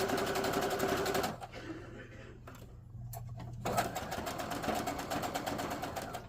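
A sewing machine runs in steady rapid stitching bursts while sewing fabric for a drawstring bag, pausing briefly before it whirs on again, with a person talking over it.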